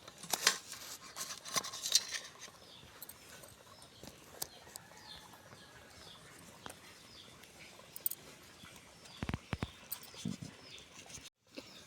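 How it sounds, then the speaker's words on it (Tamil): A knife slices green chillies lengthwise, giving faint, sparse clicks and taps on a cutting board at irregular intervals, quiet and close, with long gaps between cuts. "அடுத்தது பச்சை மிளகா கட் பண்ணி எடுத்துக்கிறோம்."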